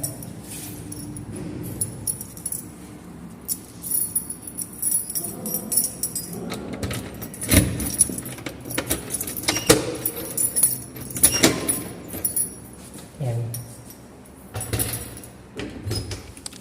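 Keys jingle and clink near at hand as a house door in Oman is unlocked, with metallic rattles and latch clunks coming in irregular bursts over several seconds and no voices heard.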